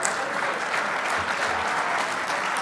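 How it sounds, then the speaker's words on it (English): Steady, dense applause from an audience at an RC racing awards banquet honoring the 1/10 scale junior champions, continuous and even throughout with no talk over it. "big round of applause for your junior champs"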